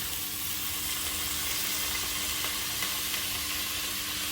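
Green hemp chowmein noodles go into a hot pan in a village kitchen, raising a loud, steady, close sizzle of frying that continues without pause.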